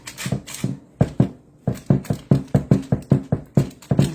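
A baking pan rocks on an uneven kitchen counter, making a steady series of hollow, clattering knocks, about two or three per second, close and moderately loud with no talking.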